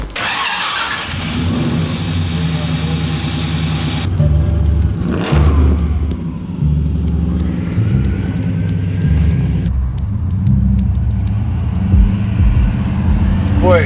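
A supercharged 600 hp 1957 Chevy V8 rumbles and revs as the car pulls away and drives, a loud, steady engine drone with shifting pitch, while people talk over it.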